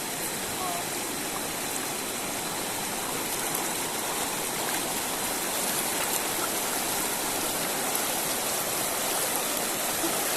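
A clear river flows over stones in shaded forest, a steady rushing, gurgling wash that holds an even level throughout with no voices over it.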